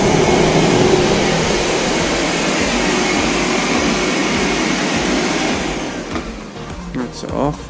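A workshop dust extraction system in a joiner's shop runs with a loud, steady broadband roar that fills most of the clip, then winds down and cuts off near the end.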